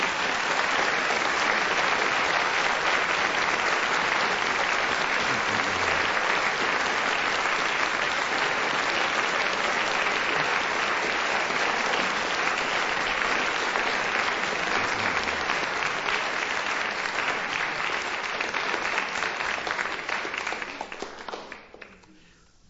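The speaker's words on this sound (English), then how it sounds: "according to your applause, Frank wins the story this week" Sustained studio audience applause at a 1978 radio panel game recording, a thick, even roar of many hands clapping for about twenty seconds before tapering off quickly at the end.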